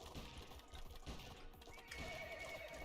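Several horses neigh and whinny in the action game Bounty of One, mixed with clip-clop hoofbeats and busy game effects at a steady loud level, with no talk.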